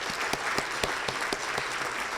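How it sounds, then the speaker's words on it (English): A steady round of applause from a Rotary luncheon audience, sustained clapping with a few sharper nearby claps standing out, no talking over it. "Let's give her a round of applause."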